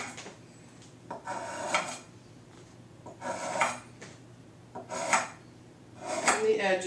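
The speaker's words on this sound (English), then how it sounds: "I'm going to take my knife. I have to protect it so I don't cut myself. And I'm just going to make slits" A knife scraping and tapping against a baking surface while cutting slits along the edges of a creamy Southwest strudel dough, in several short bursts separated by brief quiet gaps, close and moderately loud.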